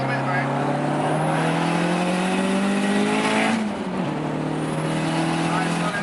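A 550+ hp 2005 Dodge Neon ACR engine holding loud, steady revs during a brake-boost launch. It sounds close and strained, the pitch climbing gradually before a brief dip and recovery, with voices heard alongside.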